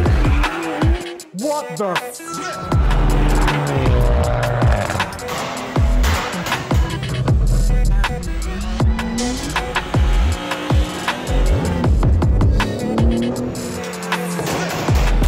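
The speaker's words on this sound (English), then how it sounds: "Turn your volume up because we've got some fire pop madness." A stage 2 tuned 2019 Audi RS3 with a gasoline particulate filter drives along while its exhaust crackles and pops in loud, irregular bursts over the engine note, with a brief spoken exclamation near the start.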